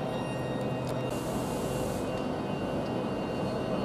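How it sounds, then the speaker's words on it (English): A Class 395 train pulls out of Stratford International station, a steady rumbling roar with a short burst of hissing noise near the start, no speech. "Now we've got this train moving"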